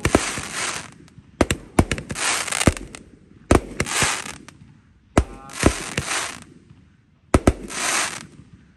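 Size 1.9 Roman candle fireworks go off on New Year's Eve 2023: four sharp launch pops, each followed by a hissing crackle as the shot burns out, repeating every couple of seconds, loud and close with no talking.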